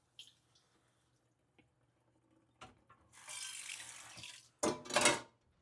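A kitchen tap runs in two bursts as a salmon pan is rinsed, with a rushing splash of about a second, a short pause, then a louder, briefer gush, preceded by faint clinks in an otherwise quiet room.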